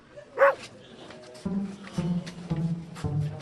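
A dog in a kitchen gives one sharp bark followed by several low, gruff woofs at a steady pace, close by.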